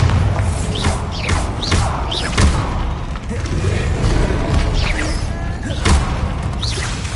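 Bombarda blasting spell in the Hogwarts Legacy video game, heavy booms and thuds repeating amid whooshing swirls and crashing debris, loud and busy throughout with no talking.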